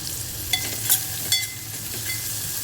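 Onions fry in a pan for a chukkakura chana dal curry, a steady close sizzle with a few light stirring scrapes and clicks, no voices.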